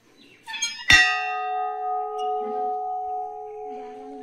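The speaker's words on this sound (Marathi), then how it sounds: "असा भला मोठा घंटा आहे," A single strike sounds a large bell at a Hindu temple, giving a loud, close clang that rings on with a steady, sustained tone for several seconds. Faint shuffling and murmuring come just before the strike.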